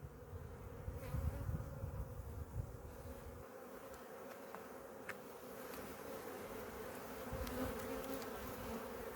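Honey bees buzzing densely around an open four-frame nuc hive during an inspection, a continuous close hum that swells and eases, with a few soft handling knocks.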